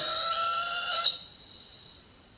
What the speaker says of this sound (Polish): tak jak słyszymy, odstrajam generator